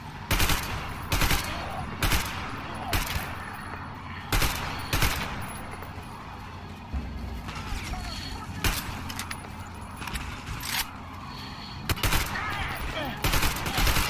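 Rapid bursts of automatic gunfire from the Metro Exodus video game, loud and close, repeating in short volleys across the whole stretch over a busy battle bed, with a voice shouting in places.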